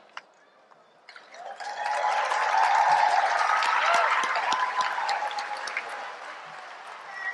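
Audience in a university commencement auditorium breaks into sustained applause for faculty, building after a quiet start and holding steady with a dense, broad clatter of clapping until the end.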